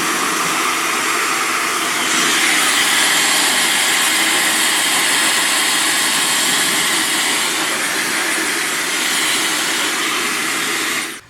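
A Dyson Supersonic hair dryer runs with a loud, steady rushing whoosh that rises slightly in strength after a couple of seconds, holds evenly, then cuts off abruptly at the end; nobody talks.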